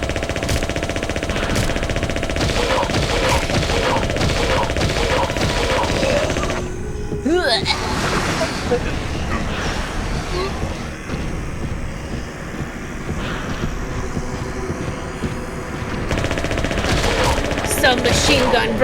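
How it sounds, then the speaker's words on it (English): Submachine gun fire in the video game Silent Hill 3, long sustained automatic bursts, loud and close, running almost continuously with a brief lull, while someone talks over it. "Submachine gun versus submachine gun. Only mine's unlimited."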